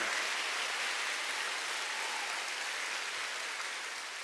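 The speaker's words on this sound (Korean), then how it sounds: "박수 좀 세게 쳐봐요" A church congregation claps together in a continuous, dense roar of applause that stays loud and even throughout, with no talking over it.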